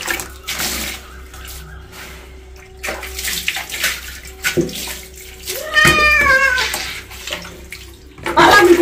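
Water poured over a pet cat's neck during a bath, splashing in uneven bursts close by, with the cat meowing loudly partway through and a person speaking softly at times.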